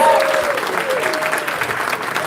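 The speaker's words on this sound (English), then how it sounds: "big round of applause for the intro" An audience at a live Q&A with video game musicians claps in sustained, dense applause, with a voice faintly audible over it.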